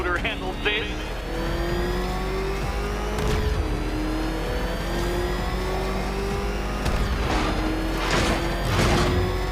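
Batmobile in Batman Arkham Knight roaring with rising engine revs and gear shifts, loud and continuous, with tire noise and impacts mixed in while a voice talks over it.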